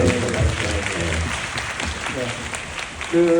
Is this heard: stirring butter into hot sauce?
no